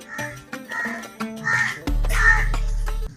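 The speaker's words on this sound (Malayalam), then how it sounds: "ആ കാക്ക കല്യാണം പറയാൻ വരുന്നുണ്ടല്ലോ" A crow caws in a series of harsh calls, the last one a long, loud, buzzy caw. It sounds close and stands mostly alone.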